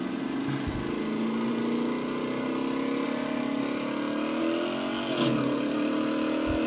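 A Collector 2 muscle car in Burnout Legends drives and drifts, its engine droning steadily at mid pitch with a short rising rev near the end, heard close and alone.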